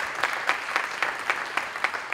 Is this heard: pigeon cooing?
no